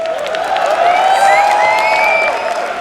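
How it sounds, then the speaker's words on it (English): A live audience at the ESL One New York 2014 Dota 2 event applauds and cheers for Evil Geniuses, a loud, sustained crowd roar with whoops and shrill whistles rising above it. "how about some applause for Evil Geniuses?"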